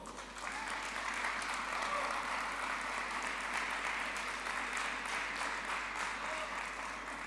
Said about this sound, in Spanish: Y vamos a darle un aplauso.